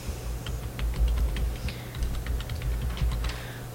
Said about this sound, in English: and I'm just going to type in,